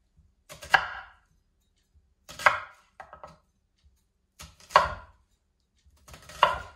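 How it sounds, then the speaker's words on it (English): Onion being sliced into quarter-inch pieces on a cutting board for French onion soup: four crisp knife chops spaced a couple of seconds apart, close and distinct against silence. "just going to slice them down into a quarter inch, just like this"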